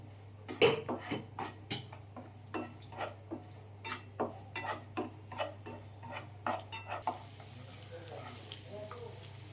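Paneer pieces fry lightly in hot oil over low heat, a steady low sizzle broken by frequent clinks and scrapes of a utensil against the pan, close and moderately loud, with no talk.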